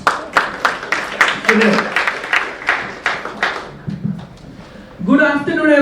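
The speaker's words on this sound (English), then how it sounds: "Another round of applause, my friends." A room of people at a business talk gives a round of applause, a rhythm of distinct sharp claps over several seconds that fades, followed by someone speaking.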